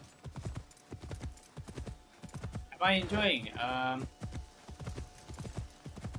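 Horse hooves clip-clop in a steady, even rhythm in the video game Assassin's Creed Shadows, moderately loud throughout, with someone briefly talking midway.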